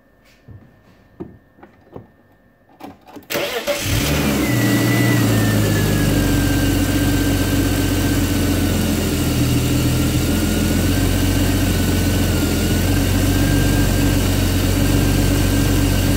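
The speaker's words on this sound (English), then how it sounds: "I will idle the car and then take the voltage readings." A car engine cranks and catches after a few seconds of quiet handling noises, then settles into a steady, close idle with a faint whine riding over the low hum.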